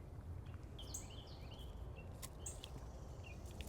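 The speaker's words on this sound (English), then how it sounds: "Here, all the birds are waking up." Several birds chirp and whistle at dawn in a Florida butterfly garden, short bright calls scattered over a steady low hum of background noise, faint and somewhat distant.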